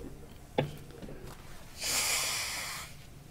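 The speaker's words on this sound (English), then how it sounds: "Oh, I have to blow my nose." A person blows their nose once, a brief breathy honk lasting about a second, preceded by a short sniff and quiet room noise.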